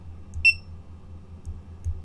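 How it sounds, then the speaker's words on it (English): Touch screen game device giving a single short electronic beep, clear and alone, over a low steady hum. "I'll beep once"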